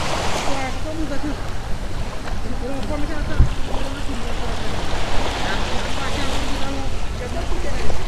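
Sea noise around a snorkeling boat: steady wash of waves and wind buffeting the microphone, loud and continuous, with a voice talking over it.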